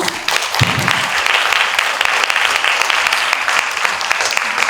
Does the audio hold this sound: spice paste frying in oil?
no